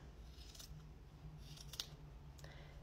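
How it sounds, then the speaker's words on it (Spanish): Scissors trimming the fuzzy edge of a plush seal made from a fuzzy sock, a few quiet close snips spaced apart over a low room hum, with no talk. "Le voy a recortar un poquito de este borde para que no me quede como tan largo"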